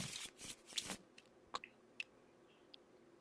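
Cards for a board game are shuffled in a few quick riffling bursts up close, then followed by scattered soft taps and clicks in a quiet room.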